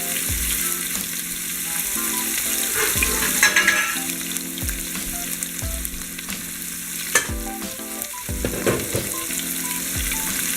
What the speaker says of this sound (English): I'm not gonna completely cook it. Just gonna brown both sides.